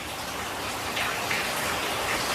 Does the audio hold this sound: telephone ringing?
no